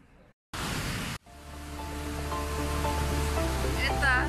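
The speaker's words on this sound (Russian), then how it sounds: "здесь из окна виден этот водопад" A waterfall in the town of Bad Gastein, Austria, heard from a window as a steady, broadband rushing roar that swells after a brief silence and holds loud and constant.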